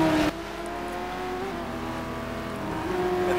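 Race cars in the 2013 SA simGT Challenge sim racing series at Aldo Scribante, including a Lamborghini, droning steadily through a formation lap, with a continuous engine hum and layered tonal whines at moderate, even loudness.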